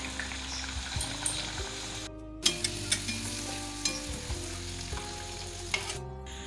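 Luchi dough rounds frying in hot oil in a wok, a steady bubbling sizzle with clinks and soft knocks of a utensil against the pan and brief drops in sound partway through.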